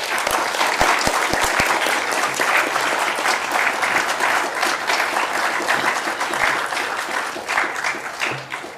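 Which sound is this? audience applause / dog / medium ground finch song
audience applause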